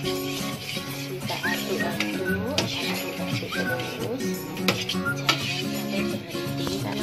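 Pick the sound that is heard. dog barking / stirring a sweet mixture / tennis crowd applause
stirring a sweet mixture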